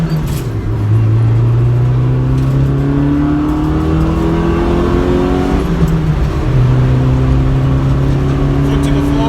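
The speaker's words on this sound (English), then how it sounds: "You don't hear the fucking fart can in the back, you just hear all the motor." A Honda Civic EG with new motor mounts pulls hard under acceleration, its engine note climbing steadily through the revs with a shift partway before climbing again, loud and close from inside the car.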